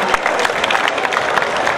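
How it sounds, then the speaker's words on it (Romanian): An audience at a school year opening ceremony at a college in Pașcani, Romania, applauds the mayor: dense, loud, sustained clapping from a large crowd with some voices mixed in. "Să-l aplaudăm pe domnul primar!"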